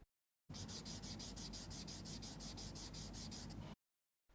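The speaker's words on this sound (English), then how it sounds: "Now I'm going to take this plastic wrap off for a second." Plastic film peeled off a SanDisk Extreme Portable SSD, a close, steady crinkly rubbing with a regular rhythm for about three seconds, heard alone between brief silences.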